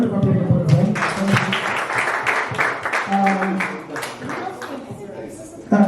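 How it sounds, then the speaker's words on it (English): An audience at a youth conversation event in Abuja gives a round of applause for two participants: scattered clapping runs beneath ongoing voices and general room noise, moderately loud and mixed with talk. "A round of applause for them."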